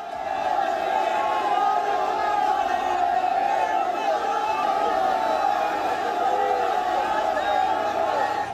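Crowd outside the Jama Masjid in Saharanpur raising slogans, a dense roar of many voices shouting together, steady and loud throughout with no pauses.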